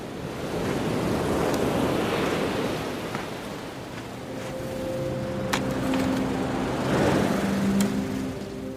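Ocean waves wash steadily onto a beach in a continuous, loud surf roar with wind buffeting the microphone, and a few faint sustained tones drift in partway through.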